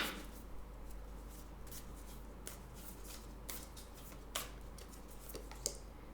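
Moonology oracle cards are shuffled and drawn at close range, a quiet run of soft riffling flicks and sharp card snaps spaced irregularly over a low steady hum, with no talking.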